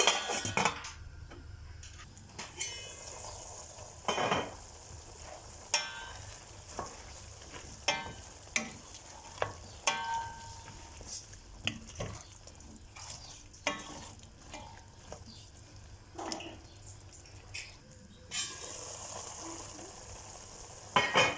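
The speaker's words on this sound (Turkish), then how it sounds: "Biberimizin rengini ara ara karıştırarak renginin değişmesini sağlayalım." Peppers fry and sizzle in oil in a pot for a pickle, with a steady hiss beneath repeated clacks and scrapes of a utensil stirring against the pot, close and without talking.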